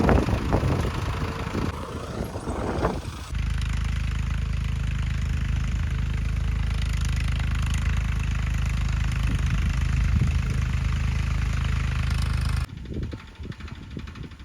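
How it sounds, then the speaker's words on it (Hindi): A tractor's engine on a farm field after mustard seed sowing, a loud steady mid-pitched drone as it pulls away, with rougher rumbling at the start and end. "अब ट्रैक्टर रवाना हो रहा है, मतलब फिर से बोने के लिए"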